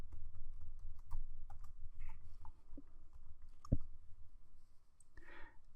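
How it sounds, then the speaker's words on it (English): Someone types a username and password on a computer keyboard while logging into a CentOS 7 Linux virtual machine: scattered, fairly quiet key clicks in an irregular rhythm, close by, with no talking. "So just type in root, type in your password"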